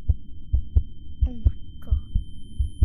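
A heartbeat sound effect in a VR film thumps in a steady double-beat rhythm, deep and prominent, while a person briefly exclaims over it.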